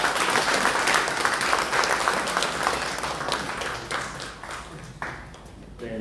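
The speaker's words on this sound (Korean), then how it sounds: "김동혁 교수님에게 다시 한번 큰 박수 부탁드립니다" Audience applause after a professor's lecture at a council inauguration meeting in New Zealand, many hands clapping in a dense burst that thins out toward the end as a voice begins speaking.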